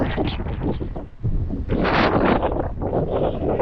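Strong wind on Pamban Bridge buffets the microphone in a continuous roaring rush that briefly eases before gusting even harder.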